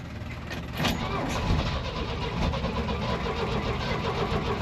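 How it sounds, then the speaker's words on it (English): Flooded engine of a C30 cranking with the choke on, a continuous rough churning rumble that holds steady for several seconds, close by. "Uh-oh, sounds like we flooded it."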